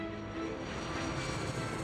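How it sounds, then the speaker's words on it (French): A Lockheed C-5 Galaxy, the huge US military transport aircraft, gives off a steady, broad engine roar and rumble that holds evenly throughout at a moderate distance. "Le C-5 Galaxy est un des appareils les plus impressionnants."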